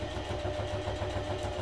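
A sewing machine stitches straight across a cast iron pot handle cover: a steady, close, rapid mechanical whir with an even rhythmic pulse that runs without a break.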